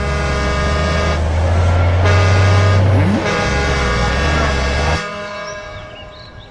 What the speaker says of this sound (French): voilà des bus.